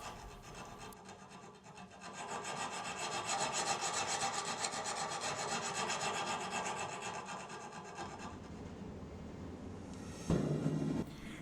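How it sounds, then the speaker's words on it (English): A file is drawn along the false bevels of a steel knife blade to flatten them. The strokes sound like steady, close raspy scraping, then the rasping stops and a brief rustling knock is heard near the end. "I always come back and draw file them to flatten them out."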